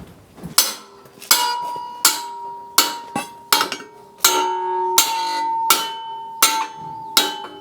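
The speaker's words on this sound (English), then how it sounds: "we need a big hammer" A big hammer ramming a warped welded part into place on homemade hydraulic levelling legs, about a dozen sharp metallic blows in an uneven rhythm, each ringing with a bell-like tone that changes pitch partway through.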